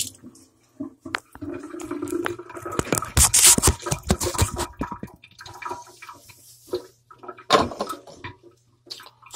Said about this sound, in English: Run some water over it.